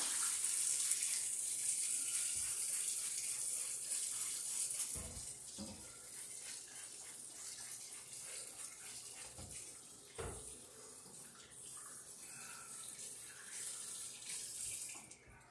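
Hot water runs steadily from a tap over hands being rinsed with sanitizer during home fruit wine making, a continuous close hiss with a few splashes and knocks.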